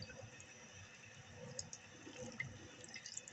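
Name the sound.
rinsing rice in water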